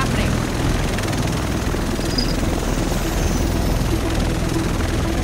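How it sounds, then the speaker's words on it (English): Helicopter in the video game Tom Clancy's The Division, a steady, loud rotor and engine roar filling the whole stretch without a break. "Whoa! An epic helicopter!"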